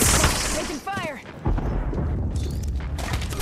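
Gunfire and booming blasts rattle through an Apex Legends match, dense and loud at the start, then scattered shots and rumble continue as voices talk over the action.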